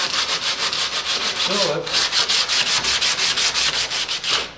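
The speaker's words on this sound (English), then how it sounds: "So with these resin-soled gloves, I can sand these" Boat fillets being hand sanded with resin-soled gloves, a steady run of quick rasping back-and-forth strokes, close and loud and heard alone.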